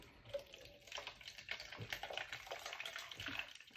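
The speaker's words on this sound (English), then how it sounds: "I'm gonna put some water in there." Water pours into a plastic container used for cleaning an Apollo Stingray HVLP paint sprayer, a quiet, close splashing and trickling that continues for several seconds without talk.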